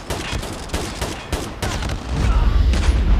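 Rapid gunfire from the Hbra3 Swarm in a video game, a loud close string of quick shots in uneven bursts, followed by heavier rumbling as firing continues.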